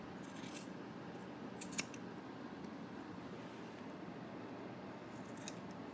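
Scissors make a few faint, sharp snips while trimming the stitched seam allowance of a sewing project, close by and brief against a quiet room hiss.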